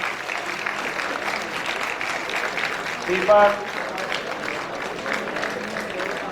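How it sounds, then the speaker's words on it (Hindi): Continuous applause from the audience at a university convocation ceremony, a steady wash of clapping running beneath a voice calling out names over the noise. "कृपया इनका उत्साहवर्धन आप लगातार तालियों से करते रहें।"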